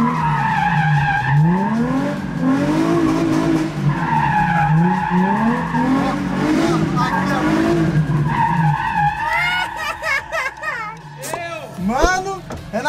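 A car drifting inside an abandoned factory, its tires skidding and squealing in long, loud, wavering screeches over a roaring engine, with people talking and shouting throughout and sharper squeals toward the end.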